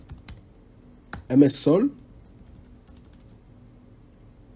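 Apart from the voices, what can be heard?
typing a command on a computer keyboard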